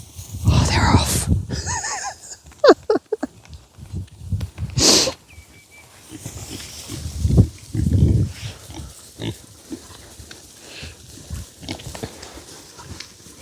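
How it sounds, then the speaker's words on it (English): Pigs on a farm grunt and squeal close by in repeated bursts, mixed with rustling and knocks of buckets, while people talk intermittently over the animals. "Let's see if we can get some pig shots."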